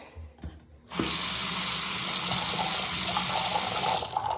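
Water gushes steadily from a house tap in a home, starting abruptly after a quiet moment and running loud and continuous to the end.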